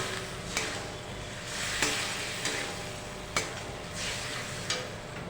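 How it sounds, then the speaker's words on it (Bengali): Spice paste being stirred with eggplant and potato in a pan, a steady sizzle with a series of distinct spatula scrapes and taps about every second, close and moderately quiet. "এবার মশলাটা বেগুন আলুর সাথে ভালোভাবে মিশিয়ে নেব।"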